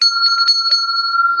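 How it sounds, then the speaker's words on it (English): A small bell rings alone in a few quick, bright strikes, close and loud, its clear tone lingering in a steady ring between hits. "ringing the bell for a true smile"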